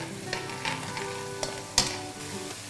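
Bay leaves sautéing in wine as it reduces in a pan, a soft steady sizzle with a few quiet stirring clinks, close and without speech.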